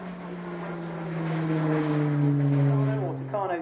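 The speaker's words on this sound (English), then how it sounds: "Tucano T1 is based on the Embraer 312 Tucano and is the RAF basic fast jet trainer" RAF Embraer 312 Tucano T1 turboprop trainer at a 2013 airshow: a strong, steady propeller drone with clear engine tones, swelling louder as it passes and shifting pitch near the end.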